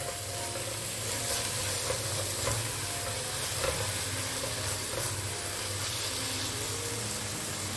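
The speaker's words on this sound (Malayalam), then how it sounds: "ഇഞ്ചിൻ്റെയും പച്ചമുളകിൻ്റെയും ഒരു പച്ചമണം മാറുന്നത് വരെ ഇതൊന്ന് നമുക്കൊന്ന് വാട്ടിയെടുക്കാം" Ginger garlic paste and green chillies sautéing in a pan, giving a steady, soft sizzle with light stirring scrapes throughout, close by and moderately quiet, with no talking.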